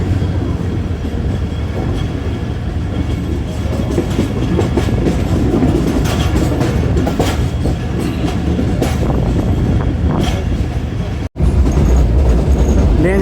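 A 14 Down Awam Express passenger train rushes past a station at full speed on the Rawalpindi–Lahore line, a loud continuous roar of wheels and rumbling carriages with steady clatter, a brief break near the end, and no talking.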